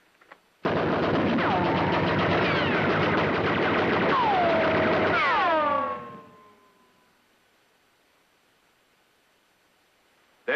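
A sustained burst of machine-gun fire with whining ricochets roars for about five seconds in a wartime audio drama, then cuts off and leaves a fading echo and near silence.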